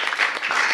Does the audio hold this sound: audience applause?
yes